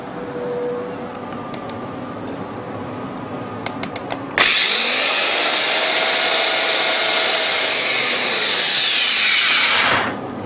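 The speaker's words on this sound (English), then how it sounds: "Now I'm going to drill a hole right here in the corner" A power drill bores a hole for a nut and bolt, starting abruptly with a loud, steady high-pitched whine that holds for about six seconds then stops, close by, after a few light clicks and handling sounds.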